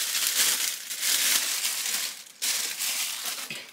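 A bag stuffed with Sega Saturn game cases is handled up close, giving loud continuous plastic crinkling and rustling with a short pause near the middle, no speech.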